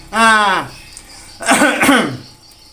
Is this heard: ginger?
no